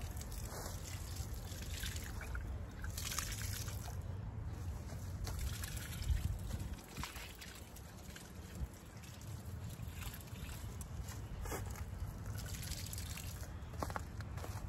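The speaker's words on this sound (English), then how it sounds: "I just pour it on the plants, like a circle around the plants or on the plants." Liquid poured onto and around garden plants outdoors, a steady soft trickle and splash that runs without a break from start to finish, with no talking.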